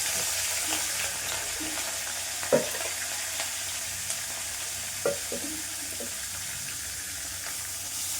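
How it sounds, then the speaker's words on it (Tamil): Garlic and curry leaves frying in oil as a base for rasam, a continuous close sizzle broken by a few scattered clinks of a spoon against the pan. "எண்ணெய் விட்டு பூண்டு போட்டிருக்கேன், கருவேப்பிலை"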